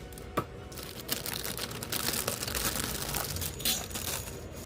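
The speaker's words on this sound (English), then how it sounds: "Okay, so let's cut open the main plastic bag." Crinkling and cutting of a plastic bag holding a 1/72 Zvezda Su-30MKI model kit, close and quiet with irregular rustles and small snips.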